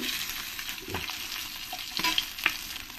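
Fish frying in hot oil in a pan, a soft continuous sizzle with a few scattered stirring scrapes and light clicks, fairly quiet and close.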